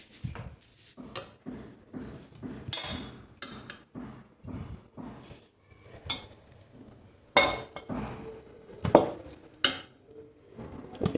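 Boiled potatoes and sweet potatoes are lifted out of a pressure cooker in a home kitchen, producing repeated close metallic clinks and scrapes of utensils against the pot at an irregular rhythm, with no talking.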